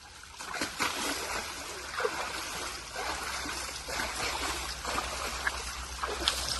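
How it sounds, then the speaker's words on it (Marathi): Steady rushing and splashing of a waterfall in the Tamhini Ghat, heard at moderate distance as a continuous watery wash with occasional sharper splashes. "धबधबा चालू झाला खाली"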